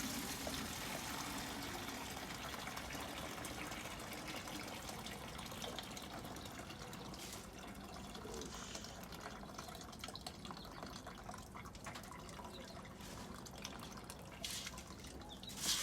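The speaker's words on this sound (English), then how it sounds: "let me use the rag instead, okay? So let me sieve it out." Boiled neem leaf and garlic liquid is strained through a cloth rag, giving a steady, faint trickle and patter of dripping water throughout with no talk.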